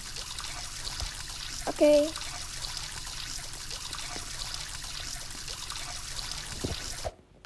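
Shower water running steadily as a constant hiss of spray and trickle, with a brief spoken word and a couple of knocks partway through, ending abruptly.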